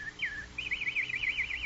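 A nightingale sings for a radio drama sound effect: a short whistled note, then a rapid warbling trill that wavers up and down. It is clear and close over a faint low hum.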